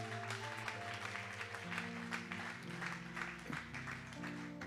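A church congregation applauds at a French-language Easter service, a steady dense clapping throughout at moderate distance, with music or voices faintly underneath.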